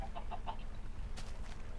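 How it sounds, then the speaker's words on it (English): Chicken clucking in the Minecraft video game, a few short soft clucks at the start followed by a brief rustly burst, heard over a steady low background hum. "Oh, it's a baby chicken, look."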